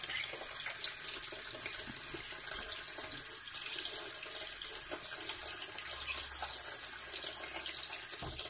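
A tap runs water steadily into a sink while a pet parrot bathes beneath it, a continuous close hiss with faint splashing throughout.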